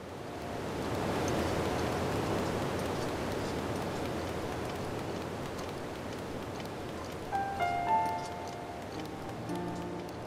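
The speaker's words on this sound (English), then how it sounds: "Oh good, the rain's gone again. Oh wait, it started up again a minute later." Steady rain hiss in The Legend of Zelda: Breath of the Wild fills the scene as a broad, even wash, with a few brief game tones chiming in near the end.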